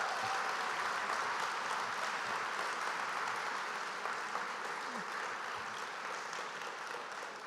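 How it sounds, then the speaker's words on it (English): Sustained audience applause at a Creating Space San Francisco 2025 panel event, a steady dense wash of many hands clapping that holds at an even, fairly loud level throughout. "can you guys help me just give them applause?"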